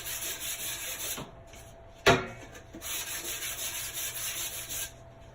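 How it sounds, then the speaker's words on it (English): Close, rasping strokes of a small sanding disc on a chalk-painted sign come in bursts, broken by a sharp knock and short pauses. "I'm going to take a little sanding disc and I'm going to sand this over my trash can."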